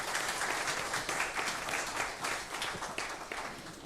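A church congregation applauding during a Palm Sunday worship service, dense, sustained clapping from many hands that fills the room, with no pauses.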